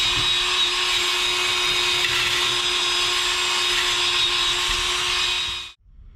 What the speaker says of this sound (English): going to be a drill with a Scotch-Brite pad on the end of it